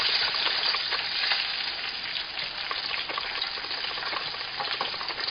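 Ruffed grouse bites fry in hot oil with a steady, dense, bright bubbling hiss, close and constant throughout.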